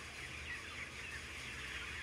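Chickens in a crowded modern broiler barn make a steady, faint murmur of clucking and peeping that blends into a dense background hum, with no voices.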